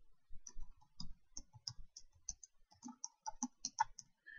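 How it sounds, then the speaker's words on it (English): Clicks and quick typing on a computer keyboard while entering titles into a presentation slide, an irregular patter of close, fairly quiet keystrokes with short pauses and no voice. "And we'll just click this and type it in."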